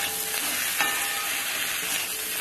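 Okra frying in a pan as tomatoes go in, a steady close sizzle with light stirring scrapes throughout, no voices.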